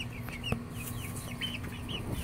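Six-week-old chicks in a backyard coop cluck and peep in soft, scattered chirps over a low hum, quiet and close with a faint tap partway through.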